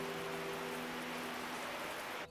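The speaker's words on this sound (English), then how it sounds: "They can only hope the rain will stop to avoid a total washout." Steady rain falling over a French countryside property, a dense, even hiss with no pauses, moderately loud and alone without any talking.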